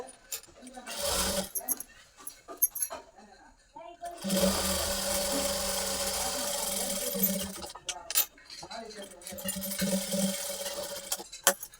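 A domestic sewing machine stitches a straight seam on a lehenga blouse in bursts of steady whirring, pausing between runs, with someone talking over it.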